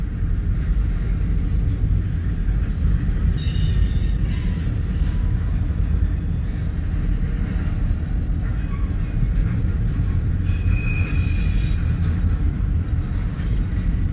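An eastbound freight train running from California to Chicago rolls past near Fremont, Nebraska, with a steady heavy rumble of wheels and cars throughout and occasional faint high squeals of the wheels.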